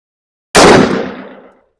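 A single sharp report from an M&P 5.7 pistol at an outdoor range, loud and close, after brief silence, with a short decaying tail.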